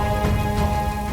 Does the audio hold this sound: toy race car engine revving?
no